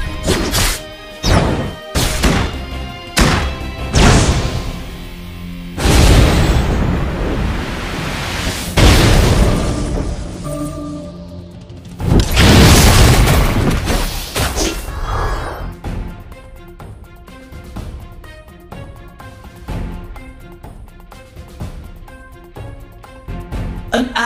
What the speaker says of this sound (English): Your turret has been destroyed.